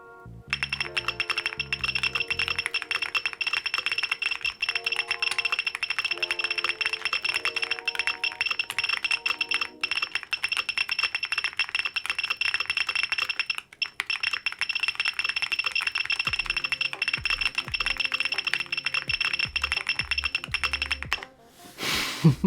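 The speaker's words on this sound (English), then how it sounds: "I'm going to do a shorter typing test because this can get very annoying. Here we go with the beeps." A typing test on a G Square Studio Vintage 60s keyboard build produces rapid, continuous keystroke clicks, each key press set off by a high, thin electronic beep. The stream briefly pauses midway and ends with a few scattered clacks.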